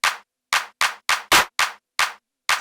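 Punchy electronic clap sample for a tech house track, eight dry, crisp hits in a steady rhythm with silent gaps between, loud and close, one hit slightly fuller than the rest.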